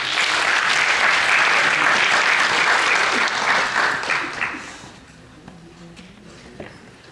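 An audience claps at the 2014 Ombudsman Academy graduation ceremony, a full, sustained round of applause that holds for several seconds, then tapers off into a quiet room with a few stray sounds.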